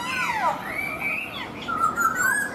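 A caged laughingthrush (khướu) sings loud, close whistled phrases with sliding, warbling notes that rise and fall in two bursts separated by a short pause, with no talk over it.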